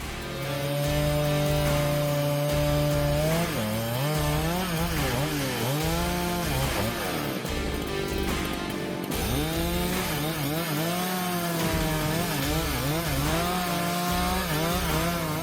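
Steel chainsaw biting into a large tree trunk during felling, a loud buzzing whine that repeatedly dips and climbs in pitch as the chain loads and frees up, continuous and close.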